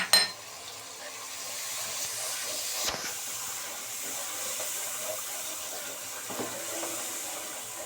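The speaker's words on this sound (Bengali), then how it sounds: "এবার সামান্য একটু পানি দিয়ে মশলাটা ভালো করে কষিয়ে নিতে হবে" Masala spice paste for a prawn dopiaza hisses in a pan after a splash of water goes in, a soft continuous steamy sizzle close by that follows a brief louder burst at the start.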